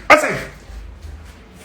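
One sharp bark from a dog inside a house, loud and close, then a quiet room.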